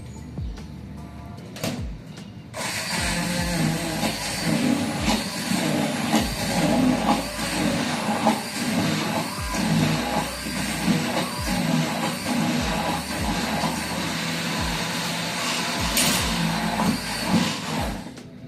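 A blender blitzes red pepper pesto: a couple of clicks, then a loud, steady motor whirr that runs unbroken for about sixteen seconds before stopping.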